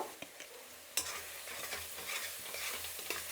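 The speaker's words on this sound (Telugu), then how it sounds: "ఇది బాగా వేగి నూనె పైకి వస్తుంది కదండి" Masala sizzles and fries in oil in a pan while a spoon stirs it, a steady close crackling hiss with scraping stir strokes and a sharper knock near the start.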